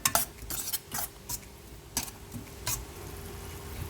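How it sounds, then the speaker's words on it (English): Metal utensil scraping and clinking against a pan in irregular strokes while frying masala with onions and tomatoes, with a faint background hum and no talking. "And now fry nicely so that the masalas blend in with the onions and tomatoes."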